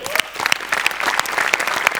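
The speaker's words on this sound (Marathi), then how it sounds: "आज सेटसाठी एकदा जोरात टाळ्या झाल्या पाहिजे." Loud, dense applause from a studio audience cheering a show's set, sharp claps bursting close and continuous for a couple of seconds.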